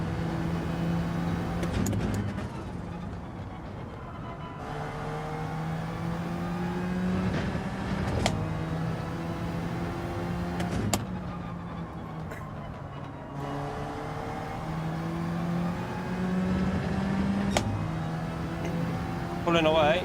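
A race car engine in Gran Turismo 7 revs and accelerates repeatedly through the gears, its pitch climbing and dropping with sharp shift cuts during a daily online race, while someone talks over it at times.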